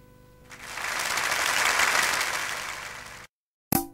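Audience applause rises and swells for about three seconds at a summer reggae show in Brazil, then cuts off abruptly into silence before a brief burst of sound.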